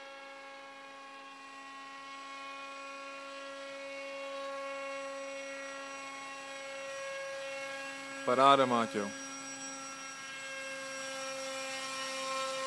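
A motorized paraglider engine drones overhead with a steady, buzzing, harmonic hum that swells slightly as it passes, while people speak briefly nearby.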